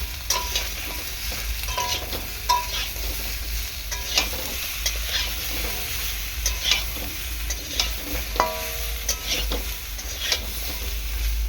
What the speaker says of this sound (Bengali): লবণ হলুদ দিয়ে সবজিটাকে ভালো করে কষিয়ে নেব